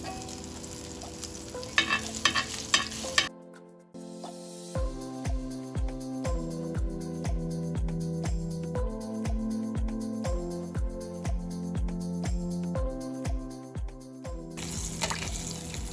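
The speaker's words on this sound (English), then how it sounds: "And then we start frying." Sopes sizzle and crackle steadily in hot oil in a pan, with repeated short scraping strokes of a spatula in a rhythmic pattern; no talking.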